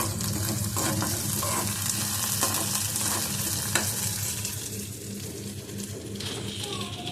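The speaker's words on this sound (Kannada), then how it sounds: "ಇಲ್ಲಿ ಚೌಳಿಕಾಯಿ ಹುರ್ಲಿಗತ್ತೀನಿ ನೋಡ್ರಿ." Cluster beans are stir-fried in a pan with a steady, dense sizzle and a constant scraping of stirring throughout, close and loud, with no talking.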